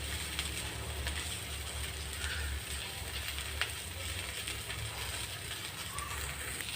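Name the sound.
okra vegetable sautéing in a pan on low flame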